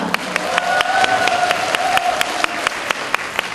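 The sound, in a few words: audience applause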